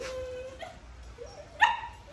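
A red Belgian Malinois puppy whimpers in thin, high whines, one long drawn-out cry followed by shorter rising yelps and a sharper squeal near the end, close by in a quiet space.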